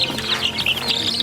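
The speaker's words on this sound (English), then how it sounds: "My dad's raising some chickens." Several young backyard chickens, the bigger chicks, cluck and chirp without pause, close and fairly loud, with no one talking.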